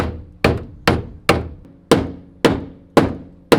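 Steady hammer blows ring out on metal inner fender tabs of a 1997 Miata, eight sharp strikes at an even rhythm with short ringing decays, close and loud with no talk.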